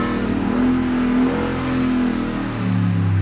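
A supercharged Ford Raptor pickup revs up close and loud, its engine holding a steady roar with a slight rise and dip in pitch, and no voices over it.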